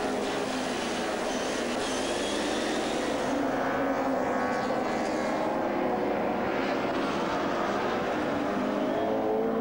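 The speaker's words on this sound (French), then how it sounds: "Klaus Ludwig qui se fait à nouveau dépasser là" DTM touring cars race at Diepholz in 1993, a loud, continuous engine roar that rises and falls as the cars pass close by, with no voices.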